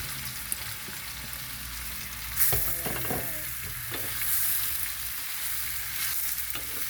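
Bitter gourd, okra and string beans stir-fry in a hot pan for pakbet, with a continuous close sizzle and occasional scraping clatter from stirring and no talking.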